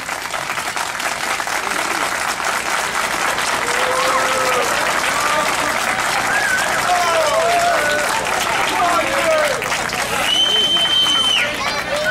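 Applause from an outdoor karaoke audience in a town piazza at Solarino, a steady wash of clapping and crowd noise that runs throughout, with voices and some whistles or shouts rising above it.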